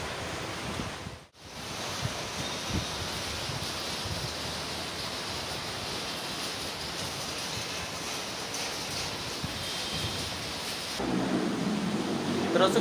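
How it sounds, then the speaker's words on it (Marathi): Monsoon rain falls in Konkan during the rainy season, a steady, dense hiss with no letup, dipping briefly near the start and swelling slightly louder toward the end. "पाऊस सुरू आहे थोडा थोडा।"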